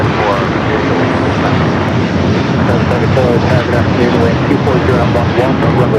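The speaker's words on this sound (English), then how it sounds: "Pretty early rotation for that A350 here today." An Airbus A350 takes off from runway 25 left at LAX, its engines producing a loud, steady roar close by, while a voice talks over the noise.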